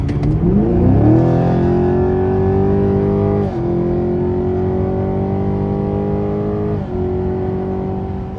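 A loud V8 engine in a Chevrolet Camaro 2SS revs with rising pitch, then drops sharply at two gear shifts and climbs again each time, a deep roar with no talking.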